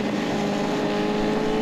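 On a track day at Thompson, a coach's car passes close by on the race track, its engine giving a loud, steady droning hum that holds evenly throughout, with no voices.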